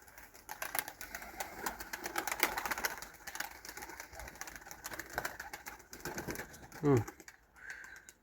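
Pigeons cooing with soft fluttering wingbeats, quiet and somewhat distant, while someone talks over them.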